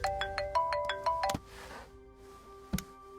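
A phone ringtone sounds for an incoming call, a quick run of bright electronic beeps repeating, then a pause and one more short chime, close and clear with no talk.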